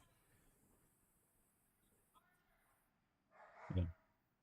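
A dog barks briefly in the distance, a short burst near the end of an otherwise quiet indoor stretch.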